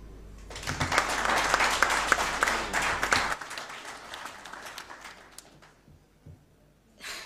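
A crowd applauds warmly for several seconds at a conference in Senegal, then the clapping thins and fades, with a brief final burst near the end.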